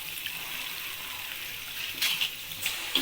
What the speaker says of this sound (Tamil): புளி தண்ணி சேர்க்கலாம்.